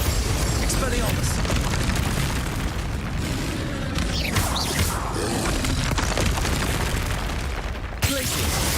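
Confringo fire spell blasts in the video game Hogwarts Legacy, with loud, dense booming explosions and crackling bursts that run continuously in the foreground, a few sharper pops standing out near the end.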